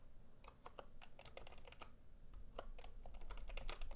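Typing on a Redragon K512 Shiva membrane keyboard gives soft, rapid, irregular key clicks at close range, with a low background hum and no talking.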